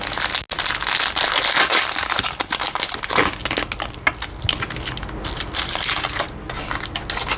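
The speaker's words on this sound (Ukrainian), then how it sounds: "Така звичайна фольга, наче в магазині побутових товарів." Foil wrapper of a Dubai-style chocolate bar torn open and crumpled, a loud, dense run of crinkling and crushing crackles lasting several seconds, close up, with a brief gap near the start and no talking.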